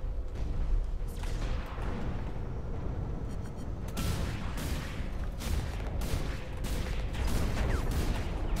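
Gunfire in the mech shooter Hawken, a dense continuous barrage of rapid shots and booming impacts, loud and close throughout with sharp bursts standing out.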